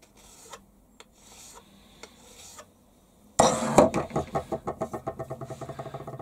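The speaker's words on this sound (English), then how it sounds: "And just a little deburr." A hand file deburring a machined metal part held in a vise: a few light taps, then a run of loud, close, rhythmic rasping strokes that fade slightly toward the end.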